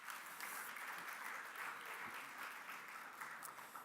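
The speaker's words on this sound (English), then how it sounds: "let's give Miami-Dade College a round of applause" Steady applause from an audience at a book fair panel event, sustained and even across the whole stretch with no voices breaking through.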